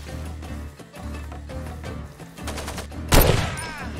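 Gunfire from the video game Far Cry 2, a series of loud close shots in a quick cluster that ends in a sharp, heavy blast, set against rumbling game background sound.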